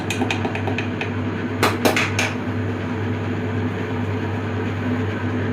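A metal spoon scrapes and clinks against a pot of Ramzan nombu kanji rice porridge, a few quick taps then steady stirring over a constant low hum.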